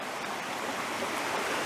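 Steady, close rush of a river flowing over rocks in Shenandoah National Park, heard from midstream during a rock-hopping crossing, a constant broadband water roar with no other sounds.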